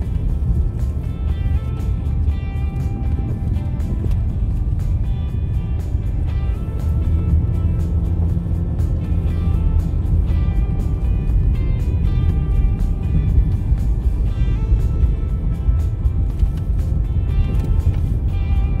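A car climbs a steep zigzag mountain road in Aurora Province, its engine a steady low drone that holds close and continuous throughout with no talking.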